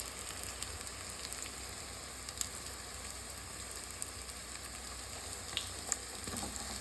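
Bora fritters frying in a pan, a faint, even sizzle crackling steadily with scattered tiny pops and no voices.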